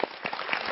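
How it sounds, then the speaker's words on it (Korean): A short burst of audience applause at a lecture talk show, brief scattered clapping from the crowd lasting under a second at moderate volume. "박수 한번 주시고"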